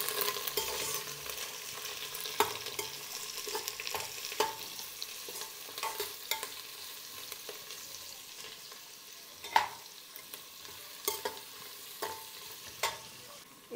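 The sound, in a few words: carrot and beetroot frying on low flame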